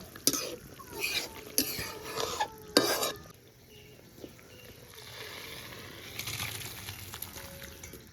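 Cumin powder stirred into a curry in a pan, with several loud spoon clatters against the metal early on, then a softer stirring scrape under a low sizzle and a brief cough.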